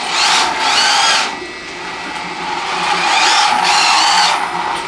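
A cheap toy-grade RC drift car whines in high-pitched electric motor bursts that rise and fall as it accelerates and slides, loud and close with no talking.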